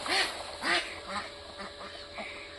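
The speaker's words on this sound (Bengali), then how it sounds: "পুকুরে কত হাঁস দেখুন।" Ducks on a village pond on an island in the Sundarbans quack in a few loud nasal bursts, followed by softer scattered calls at moderate distance over quiet surroundings.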